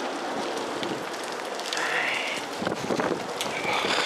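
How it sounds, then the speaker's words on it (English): Heavy rain pouring down on a street in Brixton, a dense, steady hiss of drops hitting surfaces, loud and continuous with faint scattered spatters. "It's raining like hell."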